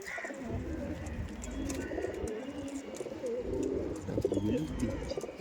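Panjabi pigeons coo in soft, repeated low calls, close by and fairly steady, with some faint background chatter and rustle.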